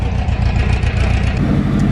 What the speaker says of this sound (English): Oh, that's got a Subaru engine in it.